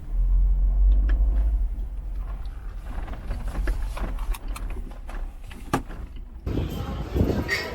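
A car rumbles as it pulls out of a parking spot in El Calafate or El Chaltén, Patagonia, a close low engine drone with scattered knocks and clatter, then a brighter hiss near the end.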